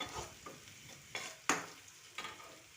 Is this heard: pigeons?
no